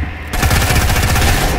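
Rapid automatic gunfire from the video game Fortnite comes as a loud, dense burst of quick repeating shots that starts abruptly and runs to the end.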